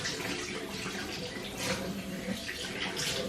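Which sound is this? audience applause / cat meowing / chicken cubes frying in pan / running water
running water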